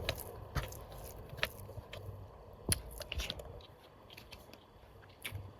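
Someone chewing rui fish paturi, cooked with mustard oil, close to the microphone, with soft irregular bites and moist squishing chews at a quiet level.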